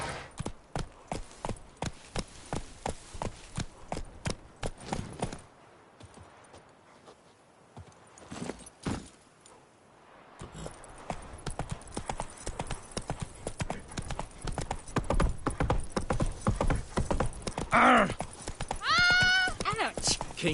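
Galloping hoofbeats of Roach, a horse in The Witcher 3 video game, pound in a quick steady rhythm, break off into a quieter stretch, then resume with a brief whinny near the end.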